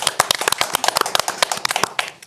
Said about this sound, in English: Give a round of applause for Erida from Greece.